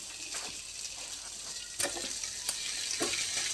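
Flat beans (chikkudukaya) fry in a pan with roasted chickpea powder, a soft, steady sizzle broken by a few sharp scrapes and clinks of stirring, quiet and close with no talk.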